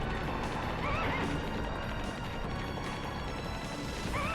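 A horse in the video game The Legend of Dragoon gives a brief whinny under a dense, loud wash of game noise with clattering hooves and crashing.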